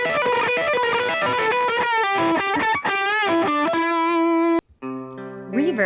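An electric guitar plays a fast rock riff through a distortion pedal, thick and saturated with bending notes, ending on a sustained chord that cuts off before a few short bends.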